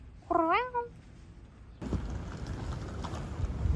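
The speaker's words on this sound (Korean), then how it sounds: "고양이가 지붕 위에 두 마리가 있어" A single cat on a roof meows once, a clear wavering cry, followed by windy outdoor rumble and rustling, in Japan.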